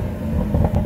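Deep, steady engine rumble from a stock Chevrolet Camaro ZL1 1LE muscle car, loud and close for under a second, with no voices.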